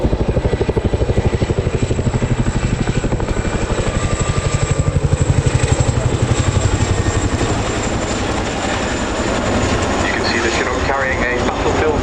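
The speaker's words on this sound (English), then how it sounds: "please turn your eyes to the sky for the 2024 Chinook Royal demonstration" A Chinook helicopter flies a display at the 2024 RAF Cosford Airshow, its loud, steady twin-rotor thump and engine roar filling the air continuously, with crowd noise and a public-address voice mixed underneath.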